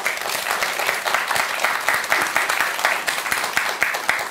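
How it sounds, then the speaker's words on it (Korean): An audience at a Buddhist lecture breaks into steady, energetic applause, a dense patter of many hands clapping close and loud throughout. "박수 쳐주세요."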